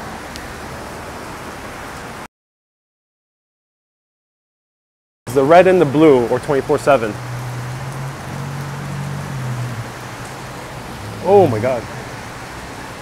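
Steady rain in Chicago's West Loop hisses as a broad wash, broken by a brief silent gap, then continuing under animated nearby voices talking.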